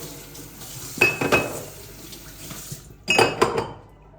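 Dishes and knives being washed by hand under a running kitchen tap: two bursts of splashing water with clinks of utensils, separated by a quieter stretch of low background.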